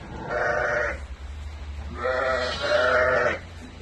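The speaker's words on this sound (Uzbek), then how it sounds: "Fevral oyida tug'ilgan qo'zichoq." Lambs bleat three times up close, one short call followed after a pause by two longer, wavering bleats in quick succession.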